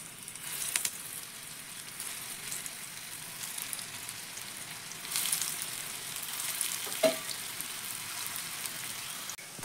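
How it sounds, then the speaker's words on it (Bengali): Puffed rice and lentil snacks fry in hot refined oil, giving a soft, steady sizzle with a few brief louder bursts as pieces drop in, heard alone with no voices. "এবার একে একে বানিয়ে রাখা স্ন্যাক্সগুলো তেলের মধ্যে ছেড়ে দিচ্ছি।"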